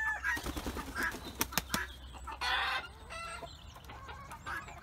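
A chicken clucks and squawks with bursts of wing flapping, busy and close, mixed with sharp clicks and scattered rustling and no speech, used as a sound effect.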